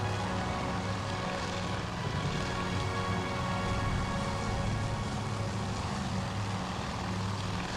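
Fighter planes droning through the air in a battle simulator video game, a steady, fairly faint engine hum with no talking over it.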